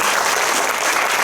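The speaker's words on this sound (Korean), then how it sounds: "박수 부탁드리겠습니다." A cinema audience at a Q&A screening of the Korean film The Upper Class at Lotte Cinema Konkuk University applauds loudly, a dense, even roar of clapping sustained across the whole moment with no talking.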